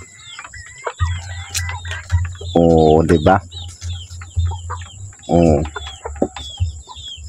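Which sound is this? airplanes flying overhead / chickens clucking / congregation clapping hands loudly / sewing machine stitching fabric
chickens clucking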